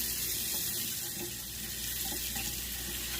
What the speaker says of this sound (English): Get some hot water rolling.